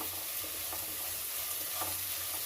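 Sesame-coconut tamarind rice being fried and stirred in a pan, a steady close sizzle with soft scraping strokes throughout, no talk.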